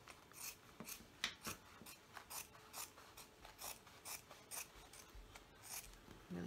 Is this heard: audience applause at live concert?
no